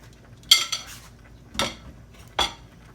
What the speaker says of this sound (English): gonna put the cabbage in here with the potatoes, carrots, put all this back in there.